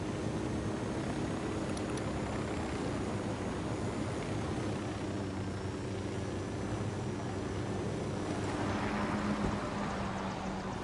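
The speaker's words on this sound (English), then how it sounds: "Get down, chopper." A helicopter in the video game Ghost Recon Wildlands makes a steady, moderately loud rotor and engine drone. The rumble holds at an even level throughout, with no voices over it.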